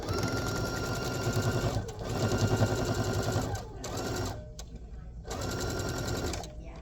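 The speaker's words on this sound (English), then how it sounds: "So I'm going to just sew a 1/4 inch seam right there." A sewing machine stitches a quarter-inch seam on a fabric wine bag, a steady close rattling whir that runs in stretches with brief stops, loud and even.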